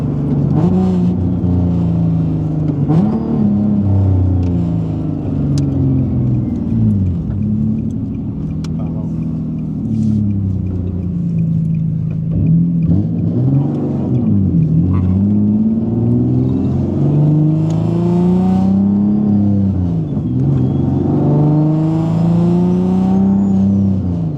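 A Nissan 370Z pulls under load from inside the cabin, its engine droning in a low, steady tone that rises and falls through several gear pulls, loud and continuous.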